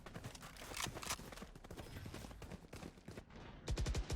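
Guardian rifle fire in a Valorant esports match, with dense bursts of gunfire and game effects throughout and heavy, close shots at the end.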